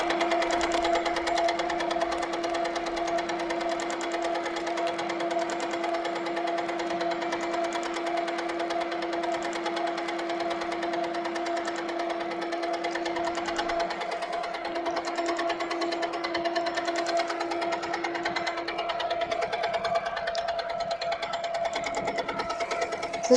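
Longarm sewing machine running steadily at about 550 stitches per minute, a continuous even mechanical hum with fine rapid stitching texture, close and sustained throughout with no talking.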